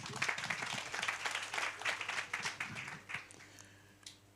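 A live audience applauds the guest at an entrepreneurship chat event, with dense, lively clapping that holds steady and then thins out into a few scattered claps before fading.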